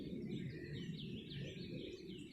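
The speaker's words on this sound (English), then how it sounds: "The weather is improving, and birds are out." Several birds sing and chirp in a backyard garden, with overlapping high warbling calls over a faint low background hum. The phrases repeat continuously and no one speaks.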